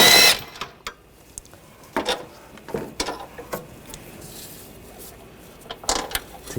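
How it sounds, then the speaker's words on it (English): Work on engine mount bolts of a 2014-2020 Nissan Rogue 2.5L with a 16mm socket: a loud clank at the start, then scattered close metallic ticks, clinks and ratchet clicks over a quiet background. "down below, we're going to use a 16mm socket, take these bolts out"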